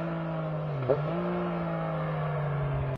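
A Yamaha MT-09 motorcycle engine holds a steady, close idle-like drone with a brief blip of revs near the start, running alone without talk.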